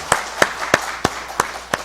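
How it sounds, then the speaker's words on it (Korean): A church congregation claps during a worship service. Six loud, sharp claps fall at an even rhythm, close and distinct, with no talk between them. "우리 한번 다시 한번 박수하겠습니다."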